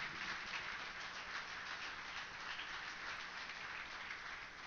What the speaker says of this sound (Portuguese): Dê um aplauso se você crê em nome de Jesus.